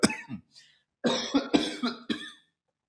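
A fit of harsh, close coughing, several coughs in quick bursts with short pauses between them.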